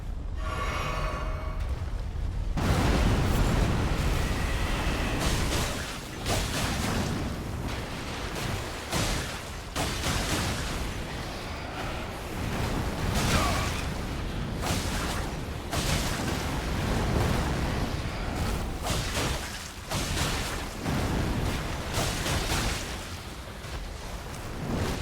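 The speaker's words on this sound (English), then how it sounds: "the auxiliary explosions." Dense, rumbling blasts and crashing booms from Elden Ring gameplay roll almost continuously, loud and chaotic, with a brief quieter tonal passage at the very start.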